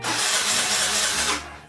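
A Vespa scooter engine is started with the ignition, giving a loud, close, rushing mechanical roar that lasts about a second and a half before cutting off abruptly.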